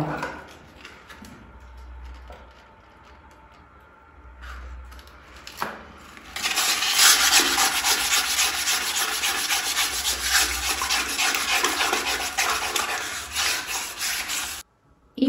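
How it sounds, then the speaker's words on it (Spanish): Sandpaper rubs off a water mark and its tartar build-up. It starts faint and patchy, then turns into about eight seconds of loud, continuous, close scraping that stops abruptly. "Vamos a agarrar la otra lija y con esta vamos a terminar de quitar la marca de agua."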